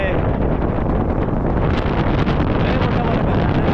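Strong wind buffeting the microphone at the Kolhapur Dussehra celebration in a loud, continuous rumbling roar, with no clear voices.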